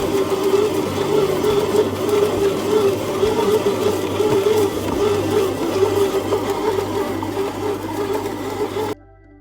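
A bread machine kneads French bread dough with a steady, continuous motor whir and rhythmic churning that runs at an even loudness for about nine seconds, then cuts off abruptly.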